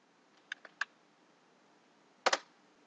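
A few quick keystrokes on a computer keyboard as a command is typed, three light clicks followed after a pause by a louder double tap, close and otherwise quiet.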